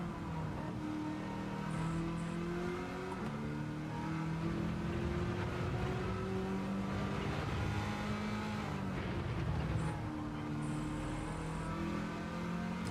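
Race cars in a racing video game lap Brands Hatch in a pack, several engines droning and revving together at once, a steady loud mechanical roar with shifting pitches that runs through the whole stretch with no voices.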